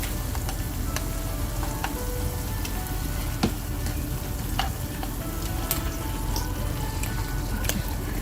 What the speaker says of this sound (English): we're going to add the beef and stir it in